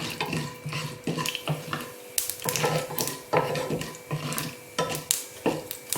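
Mustard seeds and urad dal splutter in hot oil in a pan, giving repeated loud crackling pops in uneven bursts, close and busy, with no talking over them.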